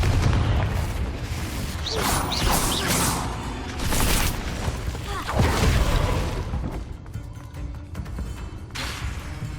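Spell explosions from Confringo and Bombarda in Hogwarts Legacy, repeated booming blasts with whooshes and thuds that come in rapid succession over dense game noise, while a voice keeps shouting spell names.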